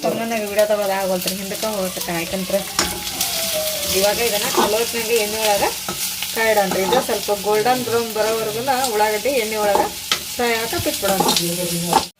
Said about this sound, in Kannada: ಇವಾಗ ನೋಡಿ ಫ್ರೆಂಡ್ಸ್ ಇಲ್ಲಿ ಉಳ್ಳಾಗಡ್ಡಿ ಅಂತ ಚಲೋತ್ನಾಗ ಫ್ರೈ ಆಗಿಬಿಟ್ಟವ್ರಿ